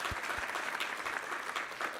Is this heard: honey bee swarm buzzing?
no